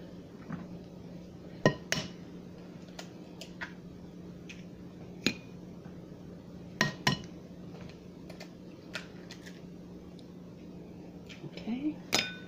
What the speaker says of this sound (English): Let's go ahead and give it a quick mix here.